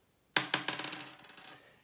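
A six-sided die is rolled onto a tabletop for a solo board game, clattering in a sharp first hit followed by a run of quickening, fading bounces and rattles, quiet and close with nothing else heard.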